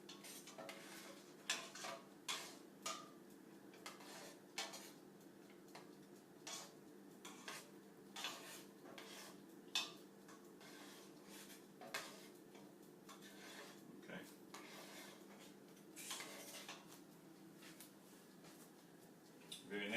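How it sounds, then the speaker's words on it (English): Gumbo being stirred in a pot, heard as a quiet series of irregular spoon taps and scrapes against the pot, faint and close, with a low background hum. "We're just going to go ahead and stir that in."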